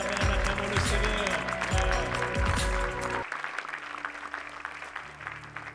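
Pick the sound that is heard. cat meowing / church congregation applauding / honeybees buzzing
church congregation applauding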